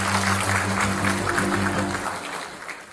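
An audience claps after a poem recitation at a gathering in Guwahati, a dense crowd clatter under a faint voice that slowly tapers off.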